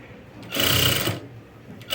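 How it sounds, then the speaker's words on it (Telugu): A sewing machine stitches piping onto cloth in a short, close burst of rapid needle chatter and motor whir lasting under a second, surrounded by quiet room tone. "ఇలా స్టిచ్ చేసుకుంటూ వెళ్ళిపోవాలి ఇలాగ ఇలా మొత్తం నీట్గా చేసుకుంటూ వెళ్ళిపోవాలి"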